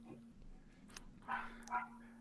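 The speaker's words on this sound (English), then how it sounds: "that dog is kicking off something chronic" A dog barking a few times at a distance, faint and somewhat muffled, with short yips spaced over a couple of seconds against a low steady hum.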